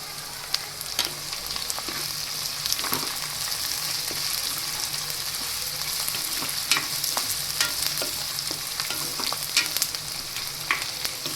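Ginger, garlic and chilli fry in hot oil with a steady, dense sizzle and crackle, broken by occasional sharp stirring scrapes and clicks throughout.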